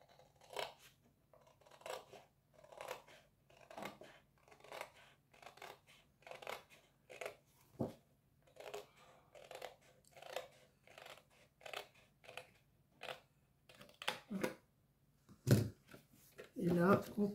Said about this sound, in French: je vais le faire au ciseau, on verra mieux